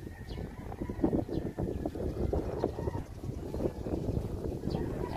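Steady typhoon wind gusts buffet the microphone in Pulo, Cabuyao, Philippines, a continuous low rumble with occasional sharper bursts, loud and close throughout.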